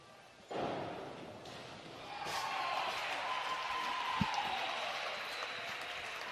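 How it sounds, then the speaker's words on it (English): Crowd noise swells into sustained applause at a Big Ten women's 3m diving championship pool, following a sharp splash-like onset near the start, with a single thud partway through. "Crowd is loving that dive here"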